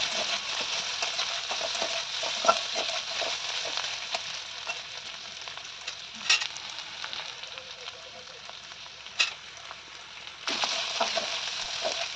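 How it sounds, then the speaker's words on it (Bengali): Chopped onions fry in mustard oil in a wok with a dense, hissing crackle that holds steady for a long stretch. A few louder pops and spatula scrapes cut through, close and with no talking. "পেঁয়াজটাকে আমরা ভালো করে ভেজে নেব।"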